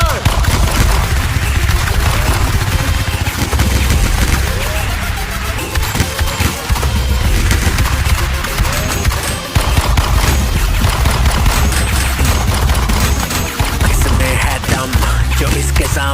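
Sustained bursts of gunfire from a Pakistani action film crackle loudly over a dense mix of music, crashes and shouting voices, the shots rattling on continuously for the whole stretch.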